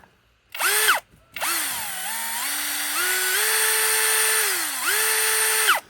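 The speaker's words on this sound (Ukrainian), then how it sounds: "Зараз підемо попробуємо щось сверлити." A Stromo SA-18BL cordless drill whirs in several bursts, its motor pitch rising and falling as the trigger is squeezed, with a brief pause between the first two runs.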